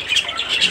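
Racing pigeons in a loft give a short burst of soft, close cooing and chirping calls.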